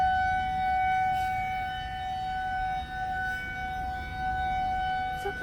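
Tornado sirens wail steadily during a storm, a sustained droning civil-defense tone holding a fixed pitch over a low rumble of wind, loud and continuous throughout.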